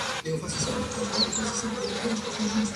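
Bees hum steadily in a continuous low drone inside a hive, with a few faint higher buzzes passing over it. No voices are heard.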